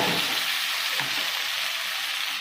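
Ground spice paste mixed with fennel lands on fried onions in a hot pan, producing a steady, close sizzling hiss that holds evenly throughout without any talk.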